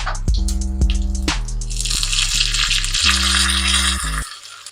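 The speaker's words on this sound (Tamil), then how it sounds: "எண்ணெய் சூடானதும் கடுகு, சீரகம், காஞ்ச மிளகா, கருவேப்பிலை, கொஞ்சமாக பெருங்காயத்தூள் போட்டு தாளிச்சிடுவோம்" Mustard seeds, cumin, dried chili and curry leaves hit hot oil for tempering, a loud bright crackling sizzle with sharp pops at the start over a strong low hum that cuts out abruptly near the end.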